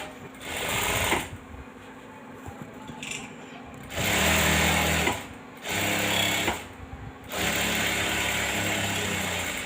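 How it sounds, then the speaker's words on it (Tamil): A sewing machine stitches the border piece of an embroidered blouse in several loud bursts of rapid mechanical clatter, separated by quieter pauses with some background talk. "கீழே அப்படியே இந்த பார்டர் பீஸை வந்து தச்சு எடுத்துடலாம்"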